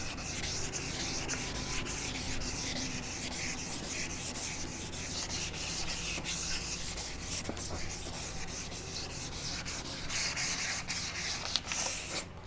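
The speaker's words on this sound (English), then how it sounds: "So on the 500 grit, I'm putting a little bit more pressure on it." Steady wet rubbing of 500 grit sandpaper worked by hand over a plastic car headlight lens under firm pressure, a continuous close scratchy swish that holds an even rhythm throughout.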